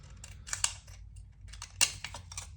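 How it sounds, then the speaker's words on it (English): Scissors snipping through a thin cut-up metal can in a model railroad hobby room while patching a hopper car: a few crisp, quiet snips, with two sharper cuts near the start and a louder one later, over a low background hum. "Let's get some scissors and trim this up"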